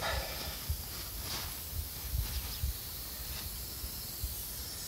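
Air hisses steadily from a leaking tire near the valve nut, a constant close hiss with a few faint thumps underneath.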